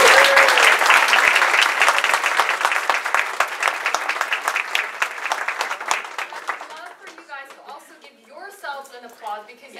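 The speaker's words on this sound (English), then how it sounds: "can we have a big round of applause for Gloria for being such an amazing" Loud audience applause for panelist Gloria at a personal branding panel discussion, dense clapping that fades after about seven seconds as a voice begins talking over the thinning claps.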